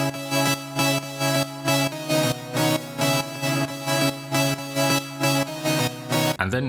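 A Phase Plant synth lead plays a chord-and-melody patch as a steady train of about a dozen bright, evenly spaced chord stabs, loud and rhythmic, ending in a short glitchy flourish.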